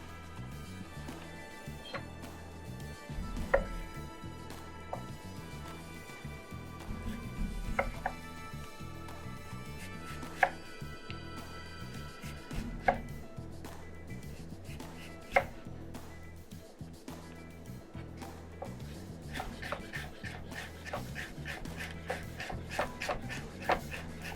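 Knife chopping turnip into fine julienne strips on a board, a long run of crisp, close knocks that start sparse and grow into quick, even bursts, heard alone without talk.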